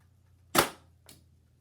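A BB gun fitted with a suppressor fires once with a sharp, fairly quiet snap, followed about half a second later by a fainter second tick, likely the pellet striking.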